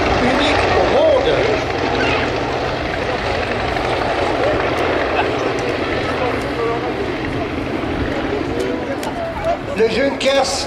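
A Junkers Ju 52 propeller airliner flies overhead with a continuous droning engine and propeller roar, loud and sustained throughout, with a few brief clatters near the end.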